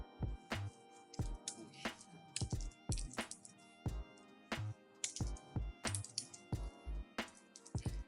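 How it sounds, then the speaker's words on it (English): Fingers tap on a computer keyboard, close and crisp, in irregular clusters of keystrokes with short pauses between bursts, without any voices. "now you're just going to type in your personal information"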